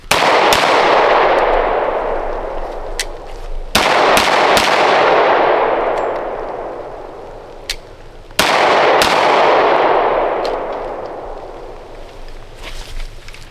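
Three loud, sharp gunshots from a customized Girsan MC35 pistol, each crack ringing into a long decaying echo, with fainter clicks and small handling sounds between shots.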